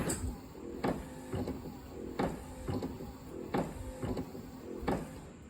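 A faulty Corvette C5 pop-up headlight motor retracting, cycling in a steady run of close mechanical whirring clunks about every 0.7 seconds, with no talk.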